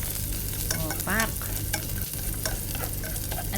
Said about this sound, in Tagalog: Kumukulo na si mantika at ilagay na natin si bawang.